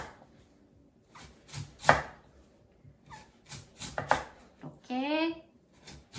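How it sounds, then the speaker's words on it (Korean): Sharp knife chops as radish is sliced into flat, even pieces on a cutting board, with sparse irregular strikes, faint and close, plus a brief clatter near the end. "납작납작 너무 굵지 않게 일정한 두께로 썰어 주시고요."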